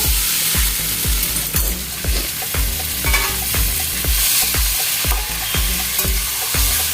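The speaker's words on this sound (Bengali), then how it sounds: "কষিয়ে নিয়েছি আমি এখন একটু জল অ্যাড করবো" Cauliflower stir-fried in a pan for a milk-based curry: a continuous sizzle runs throughout, broken by steady, rhythmic scrapes and knocks of a spatula roughly twice a second, close and clear, with no talking.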